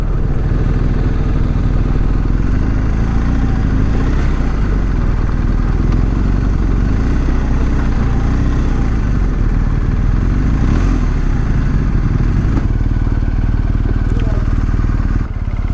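A BMW R 1250 GS motorcycle engine accelerating on an open-road ride, a loud continuous low drone mixed with wind rush, running steadily throughout while someone talks over it.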